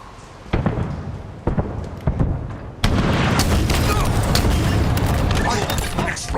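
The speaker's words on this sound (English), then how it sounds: "Explosions." Heavy booming blasts from a video game battle, first as separate thuds and then as a sustained loud barrage of overlapping explosions, with a voice talking underneath.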